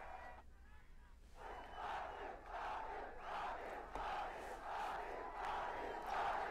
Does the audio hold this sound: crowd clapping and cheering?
yes